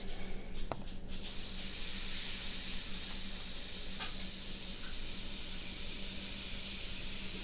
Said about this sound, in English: I love that bath bomb sound.